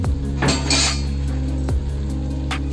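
A lid is set on a cooking pot of vangyache bharit, a mashed eggplant dish with dried shrimp, giving a couple of metallic clanks and a rattle, close and loud over a steady low hum, no talk.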